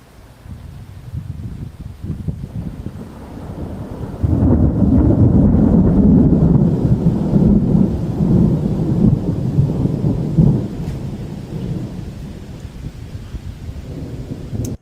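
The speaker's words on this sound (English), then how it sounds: "Thunder's awesome on that." Thunder rolls through a storm, a deep sustained rumble that swells loud midway and slowly fades back under steady rain and wind noise, with no talking.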